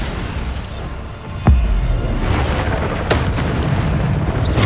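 A Bombarda spell explosion in Hogwarts Legacy lands as one sudden deep boom with a rumbling tail, set against a continuous low roar of combat, with a few sharper bursts following.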